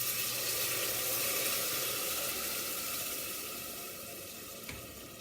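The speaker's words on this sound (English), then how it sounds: "And I add a little water, kind of wash the can so that you get all the sauce out" Water running into a crushed-tomato can to rinse out the sauce while onion and garlic sizzle in the pan, a steady splashing flow that eases off gradually.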